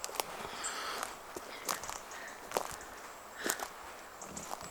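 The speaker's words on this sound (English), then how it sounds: "Did I hear footsteps coming towards me?" Footsteps move through woodland, a series of irregular crunching steps on leaf litter and twigs, faint to moderate, with a soft outdoor background and no talking.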